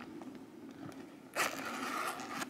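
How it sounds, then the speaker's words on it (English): Zipper on a paddler's map case pulled open in one quick, close scraping run lasting about a second, after a stretch of quiet room tone. "show the zipper"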